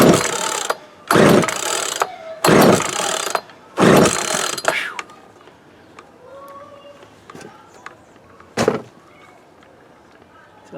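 Starter cord of an old Poulan Pro 220 chainsaw yanked four times in quick succession, each pull a loud whirring rasp, followed by quiet handling noises and one last short pull.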